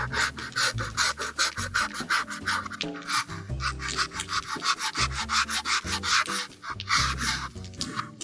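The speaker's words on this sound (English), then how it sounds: "I'm going with the sanding sponge 80 grit" Rhythmic rasping strokes of an 80-grit sanding sponge on a chainsaw-carved wooden Moai, close and steady, repeating quickly back and forth.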